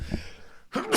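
A single sneeze bursts out loud and close after a brief pause, following a quieter stretch of breathy sound.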